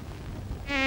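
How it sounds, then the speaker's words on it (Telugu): Flies buzz as a comedy sound effect, a thin whining drone that swells up loud and close near the end of a brief moment. "ఈగలు"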